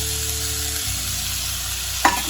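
Green gram dal stirred into a cabbage and carrot fry in a pan, a steady low sizzle with soft scraping, a hum dropping away partway and a brief sharp scrape near the end.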